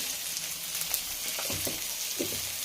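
Dried red chillies fry in hot oil in a home kitchen pan for a palyam dish, a steady close sizzle with small crackles and a few soft stirring scrapes.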